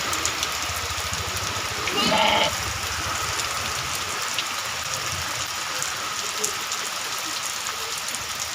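Heavy rain pours down steadily in a broad, even hiss that holds for the whole stretch, with a brief louder burst of rustling early on and faint scattered sounds beneath it.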